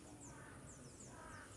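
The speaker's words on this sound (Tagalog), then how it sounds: "Ay, uwak guys." A crow caws a few times in a quick series, faint and distant, over quiet outdoor background noise in the hills.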